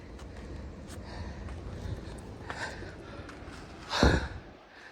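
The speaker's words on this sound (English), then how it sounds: "I'm out of breath, breathing like I'm Rasputia." A person out of breath from climbing a steep path outdoors in the cold breathes heavily and close up, ending with a sharp, loud gasping exhale near the end.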